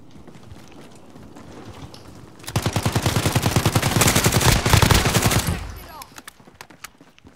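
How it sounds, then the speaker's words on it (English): Rapid automatic gunfire in a battle royale video game, a dense burst of many shots lasting about three seconds after quieter background, loud and close, then tapering off. "Taking fire over here. He's shooting at me"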